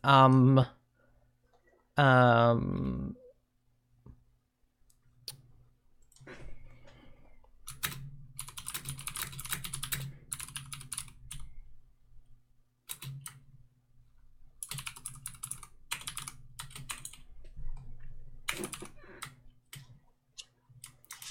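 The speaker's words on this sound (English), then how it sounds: "I'm typing it out so that you've got the actual thing" Brief talk at the start gives way to typing on a computer keyboard, with irregular bursts of light key clicks separated by short pauses, close and moderately quiet.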